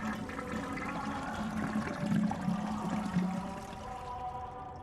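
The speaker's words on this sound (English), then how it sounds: "Sound like a toilet flush. Very loudly." A toilet flushes in the Death Mark video game, a faint rushing gush of water that swells in the middle and then trails off into a trickle.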